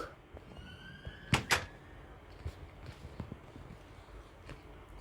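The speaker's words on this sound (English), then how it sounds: "I forgot to close the door." A wooden door in the video game Minecraft swings shut with two sharp, close knocks in quick succession, followed by faint scattered clicks over a low ambient game background.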